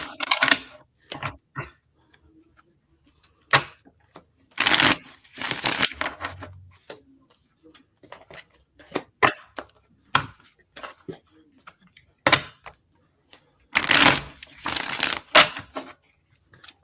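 Tarot cards are shuffled in bursts of riffling and soft flicking, with irregular pauses between handfuls, close and fairly loud.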